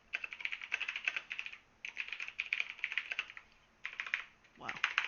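Rapid clicking of a computer keyboard being typed on, close and fairly loud, comes in three bursts separated by brief pauses, with a voice speaking briefly at the end.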